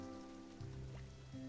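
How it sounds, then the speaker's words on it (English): Steady rain falling in the Slime Rancher 2 video game, a soft, continuous patter with a low musical hum underneath and no talking. "Watching the light hit the rain."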